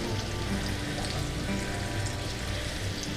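Gravy cooking down in a pan for pork chops and mashed potatoes, a close, steady bubbling sizzle with soft pops and no talk over it.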